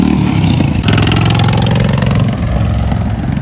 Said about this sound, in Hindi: ओह माशाल्लाह, क्या बाइक है ये।